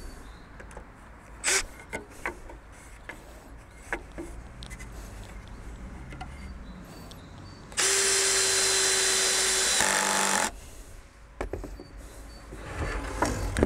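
Power drill driving a screw while assembling a wooden garage for a robotic lawn mower, a steady loud whir lasting a few seconds amid quieter handling knocks and rustles.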